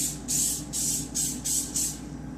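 Cooking spray is applied to a cookie sheet held upright in a light coat, four short hissing bursts in a quick even rhythm over a low background hum.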